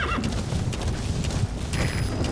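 Horse hooves and a whinny in the Metal Gear Solid V: The Phantom Pain video game, a steady clip-clop of galloping under busy game sound with a brief neigh, continuous and fairly loud.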